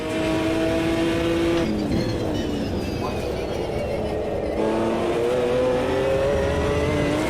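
A GT1 race car leaves the pits at Road America in the sim racer Automobilista 2, its engine droning loud and steady, pitch dropping at a shift before climbing again as it accelerates.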